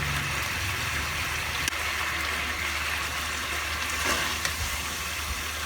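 Mutton karahi with tomato paste sizzling in a pan, a steady faint frying hiss that runs throughout with a few small clicks of utensils.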